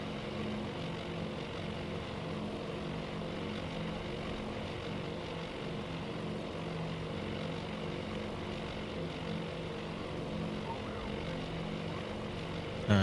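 Steady droning aircraft engines over a naval battle in the Task Force Admiral video game, set in a Midway scenario, a continuous even hum holding for the whole stretch with no talk.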